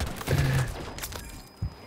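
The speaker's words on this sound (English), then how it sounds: "this shotgun has literally no recoil" Shotgun fire in the video game Battlefield 2042, a burst of heavy blasts and thuds early on followed by a sharp single report near the end, loud and close.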